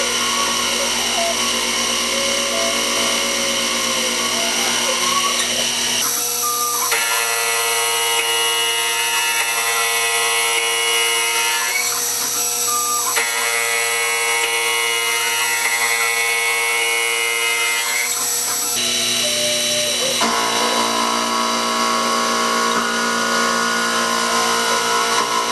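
A machine mills an ellipse on a Stuart Beam steam gland with a sustained, loud, high-pitched whine and hum. The tone steps between steady phases as the cut progresses, with no talking.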